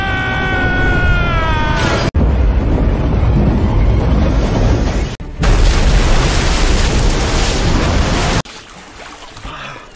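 A loud, sustained roaring bomb blast in a film scene at sea near a ship, with rumbling noise, cut abruptly into several sections, ending in a quieter windy hiss.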